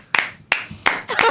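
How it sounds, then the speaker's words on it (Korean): A few people clap in short, separate bursts, about four sharp clusters of claps, close and fairly loud, with a brief voice mixed into the last one. "박수가 나오는데요."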